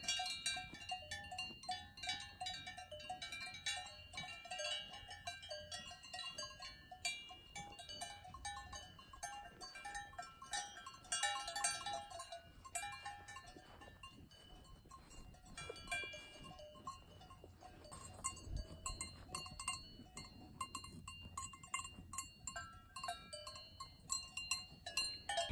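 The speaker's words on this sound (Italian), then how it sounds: "provare a includere i suoni dei campanacci delle mucche" Metallic bells clank and jingle irregularly throughout, several at once, cowbells on cows grazing in the mountains, fairly close and continuous.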